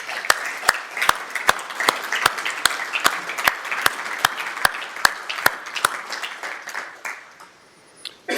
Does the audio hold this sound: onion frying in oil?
no